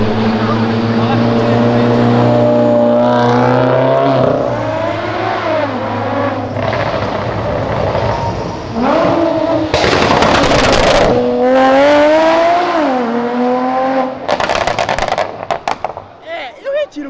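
A loud engine revs hard and climbs through the gears as a Porsche sports car roars past, with sharp crackling pops from the exhaust.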